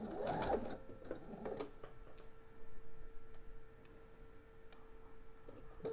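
A sewing machine runs steadily while piecing fabric for a Jawbreaker pillow, its stitching chatter fairly close and continuous with a brief louder burst at the start, no talking over it.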